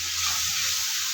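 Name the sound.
spice paste sizzling while frying in oil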